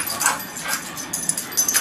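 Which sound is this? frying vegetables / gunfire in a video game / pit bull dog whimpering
pit bull dog whimpering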